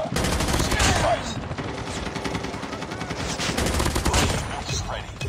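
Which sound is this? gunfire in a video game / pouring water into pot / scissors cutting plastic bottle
gunfire in a video game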